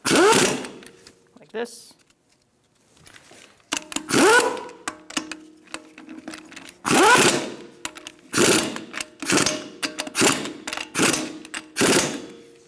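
Power tool snugging up wheel lug nuts on a 2002-2006 Honda CR-V in a star pattern, a series of short, loud, rattling whirring bursts separated by pauses, with someone speaking briefly.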